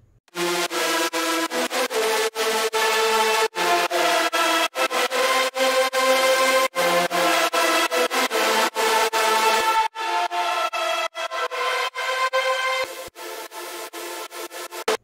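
Distorted synth lead played solo, a bright, buzzy melodic line in choppy rhythmic phrases with brief gaps, loud and close, with no talking.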